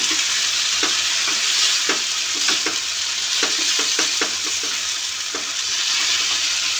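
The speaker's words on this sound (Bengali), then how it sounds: "এটা আমি একটু ভাজা ভাজা নামাবো শুকনো শুকনো নামাবো" Okra being stir-fried dry in a pan for a Bengali dish, a steady sizzle with irregular scrapes and clicks of the spatula stirring, close and alone with no talk.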